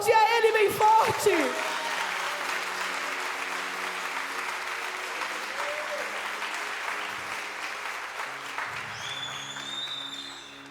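A church congregation applauds loudly during a sermon, a dense sustained wash of clapping that follows a short sung or spoken phrase and continues steadily throughout.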